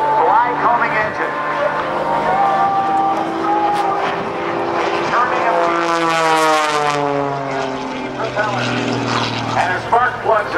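A 300-horsepower Extra 300S aerobatic plane with an AEIO 580 Thunderbolt engine roars at a naval air station airshow, its pitch sweeping up and down as it passes, loud and continuous, with a commentator talking over it.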